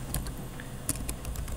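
Keys clatter on a computer keyboard while code is typed, a few quick taps standing out with one sharper clack near the middle over a steady low background hum.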